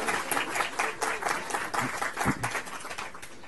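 A conference audience gives a burst of steady applause, many hands clapping densely at moderate distance and holding for several seconds before easing slightly.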